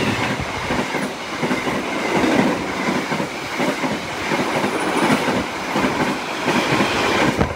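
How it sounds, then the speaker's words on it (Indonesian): Kahuripan passenger train rolling through the railway near a station crossing, a steady loud rumble with rhythmic wheel clatter throughout. "di sini kereta api Kahuripan akan tunggu bersilang kembali dengan kereta api Turangga dari stasiun Surabaya Gubeng tujuan stasiun Bandung."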